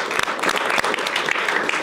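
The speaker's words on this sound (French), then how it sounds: "merci de saluer le public qu'on peut applaudir" Studio audience applause on a talk show, a steady, moderately loud wash of many people clapping with a few sharper claps standing out, lasting under two seconds.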